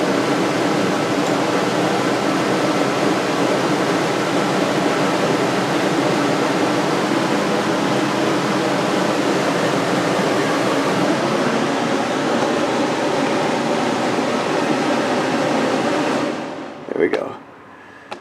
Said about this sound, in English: I'll shut the air conditioning down.